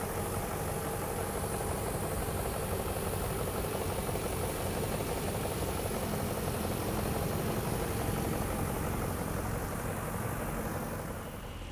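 BMW E39 540i V8 engine idling in the engine bay, a steady, even hum with a low rumble, close and continuous, fading slightly at the very end.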